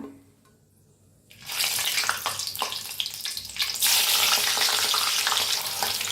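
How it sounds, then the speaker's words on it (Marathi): Slit green chillies hit hot oil and break into a loud, crackling sizzle after a quiet opening, bursts of spattering that swell and settle into continuous frying close by. "आता मिरच्या तळून घेऊया"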